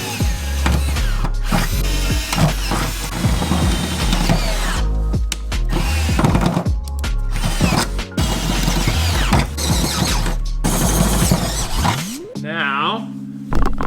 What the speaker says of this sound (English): I'll drill some holes and I'll show you how it works.